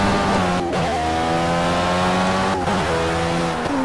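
An Indy car in a racing video game brakes hard, its engine note dropping in stepped downshifts as it slows, twice in quick succession, loud and close with no talking.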